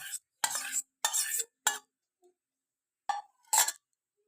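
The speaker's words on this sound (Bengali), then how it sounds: "নিয়ে নিয়েছি 3টি ডিম, এভাবে ফেটিয়ে নেব" Three eggs for a Spanish omelette are whisked in a bowl in short bursts, with a few quick clinking strokes, then a pause, then two more brief bursts, close and fairly quiet.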